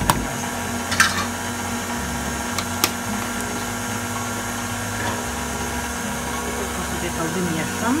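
An electric mixer hums steadily as it mixes banana bread batter, a continuous motor whir running the whole time, with a few clinks of the beaters against the bowl.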